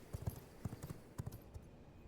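Horse hooves clip-clop in the video game V Rising, a quiet, uneven run of light hoofbeats in small clusters, alone and without talk.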